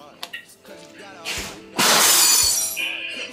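Glass breaks indoors with a loud, bright shattering crash followed by scattering fragments, preceded by a few smaller clinks.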